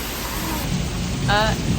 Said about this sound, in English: It's raining so much, and also thunder and flash.